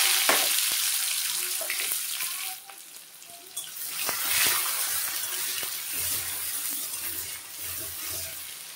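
Onion and tomato frying in hot oil seasoned with cardamom, cinnamon and cloves, a steady close sizzle with occasional stirring clatter, no talk.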